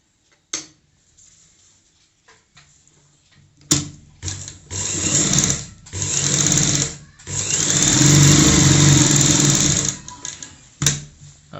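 A sewing machine runs in several bursts of stitching, with short pauses between them, as it sews a pleat on a girl's frock about seven inches down from the top. The motor hum is close and steady, and there is no talk over it.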